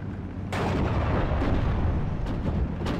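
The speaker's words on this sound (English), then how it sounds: "In this case, the AI is using a mortar" Mortar fire in the WWII strategy game Steel Division: Normandy 44, a heavy rumbling barrage that swells in loudly and holds as a dense, booming roar with scattered sharper impacts.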